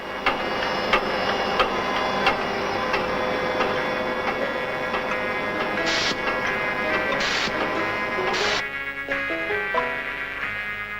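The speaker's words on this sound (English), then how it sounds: "Other automatic machines simultaneously carve the side segment grooves on 3 rotors." Automatic machines at a Citroën factory cut side segment grooves into three rotary engine rotors at once, giving a steady dense mechanical whir with rhythmic clicking and a few sharp high bursts, running continuously throughout.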